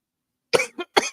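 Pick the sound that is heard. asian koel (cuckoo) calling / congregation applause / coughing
coughing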